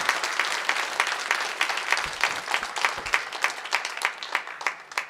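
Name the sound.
audience applause welcoming a lecturer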